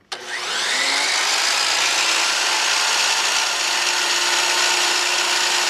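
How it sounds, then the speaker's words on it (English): A DeWalt sliding compound miter saw spins up with a sharp startup surge, then holds a loud, steady motor whine close by for several seconds, running on battery power station output. "I've got my DeWalt sliding compound miter saw plugged into the Bluetti Elite 300"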